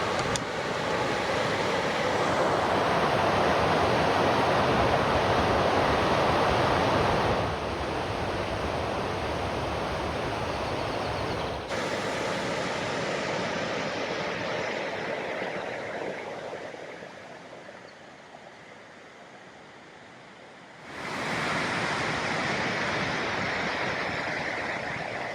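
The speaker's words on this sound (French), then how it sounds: "on suit la piste qui longe le Doron des Alus jusqu'au petit pont qui enjambe le torrent" Mountain torrent, the Doron des Alus near a small footbridge on a trail loop at Méribel, rushing in a steady broadband roar that stays loud, briefly eases and dips, then surges back up.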